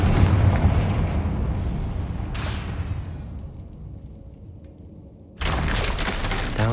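A fire spell explosion in Hogwarts Legacy: a loud booming blast with crackling debris that decays into a low rumble, followed by a sudden return of loud roaring game sound, with no talk.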